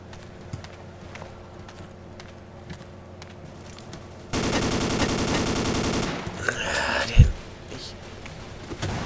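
Sustained automatic gunfire in the blocky multiplayer shooter Ace of Spades, with a dense, rapid burst lasting about two seconds, then scattered louder shots and a heavy impact, set against faint ambient game noise.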